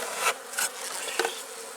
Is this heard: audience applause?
no